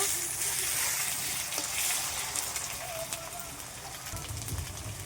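Garlic frying in a pan of oil after onions have been browned for a chicken curry, giving a steady broadband sizzle that holds for the whole stretch with faint soft clinks beneath it.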